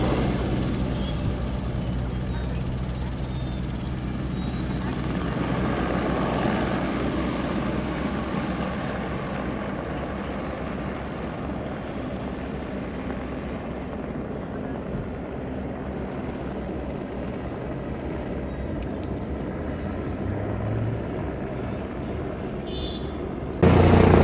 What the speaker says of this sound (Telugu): హెలికాప్టర్ చూడండి తెగ తిరిగేస్తూ ఉన్నాయి